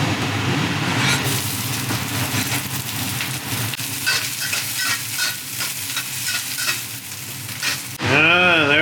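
Fried rice with eggs sizzles and is stirred in a pan, a loud continuous frying hiss with repeated scraping strokes, ending in a brief different tone.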